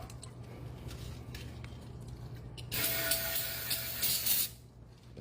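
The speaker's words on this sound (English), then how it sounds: "I'm gonna spray the hell out of this." An aerosol can sprays in one steady hissing burst lasting a couple of seconds, close by, while someone cleans up during an oil change on a 2021 Hyundai Palisade, with a low shop hum continuing underneath.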